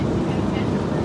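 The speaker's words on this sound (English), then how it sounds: "we're on an airplane" Steady broadband airplane cabin roar during flight, a constant low rumble and hiss that continues unchanged from start to finish, with no voices.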